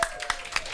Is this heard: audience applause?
yes